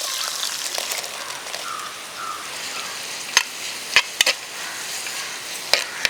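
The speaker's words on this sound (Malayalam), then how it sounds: "എണ്ണ ചൂടായി വന്നിട്ട് ഇതിലേക്ക് നമുക്ക് സവാള ചേർത്ത് കൊടുക്കാം" Chopped onion fries in hot coconut oil in a clay pot, giving a steady close hiss with a few sharp scrapes and clicks of a utensil stirring.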